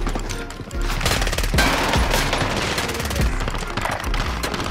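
Rapid automatic gunfire in the Warzone video game, with dense loud bursts of shots and impacts filling the whole stretch, layered over in-game noise.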